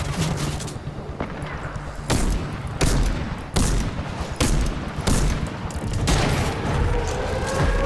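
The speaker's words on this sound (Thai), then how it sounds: "เดี๋ยวกูไปยิงไอ้ตัวไกลๆให้" Gunfire in the video game Fortnite sounds in quick repeated shots and bursts, booming loudly at uneven intervals over constant game background noise.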